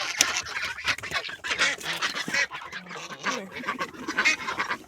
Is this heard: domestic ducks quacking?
yes